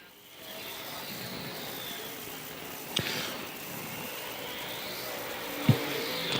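A race car roars past on the racetrack during qualifying at the SLM/FWD Jamboree, the engine note rising and falling as cars sweep by at a distance, with a couple of sharp clacks in between.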